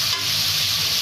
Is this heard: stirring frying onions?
yes